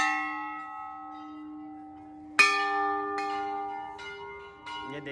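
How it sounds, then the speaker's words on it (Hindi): Brass temple bells at Naina Devi temple in Nainital ring out: a long humming tone fades before a sharp fresh strike, followed by lighter clangs and lingering resonance. "और पहले घंटी बजा देते हैं तीनों।"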